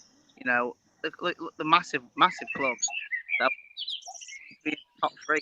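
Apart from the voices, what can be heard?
bird singing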